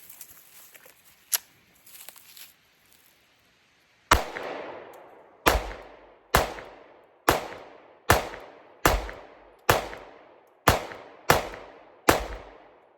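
Pistol fitted with an OD green Olight Osight red-dot optic fires a steady string of about ten sharp, loud shots, each with a short ringing decay. Quiet handling noises come before the first shot and there is no talking.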